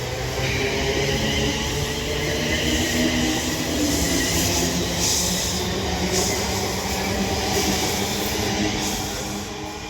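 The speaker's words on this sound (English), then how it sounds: "Now departing is going to be the 1358 London North Western Railway service to Liverpool Lime Street." A London North Western Railway train, the 13:58 service to Liverpool Lime Street, departs Runcorn station on the West Coast Main Line. A loud, steady rumble of wheels and carriages fills the whole stretch without letting up.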